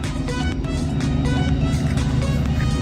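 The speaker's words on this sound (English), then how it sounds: "Here's the tow truck coming up." A tow truck approaching, a steady loud engine rumble and road noise building throughout.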